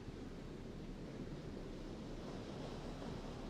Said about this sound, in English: You can just listen to the waves.